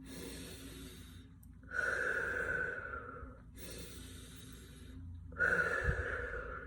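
A parent demonstrates slow, calming breaths for a young child: two long drawn-out inhale-exhale cycles, each several seconds, close and clear with short silent gaps between and no speech.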